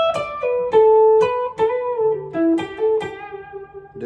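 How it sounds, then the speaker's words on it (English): Electric guitar plays a descending sequenced minor pentatonic lick from a solo: a quick run of clean, sustained picked notes stepping downward, close and clear with no talk. "the last part is a descending sequenced minor pentatonic lick"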